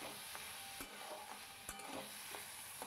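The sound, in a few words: Gobindobhog rice being fried and stirred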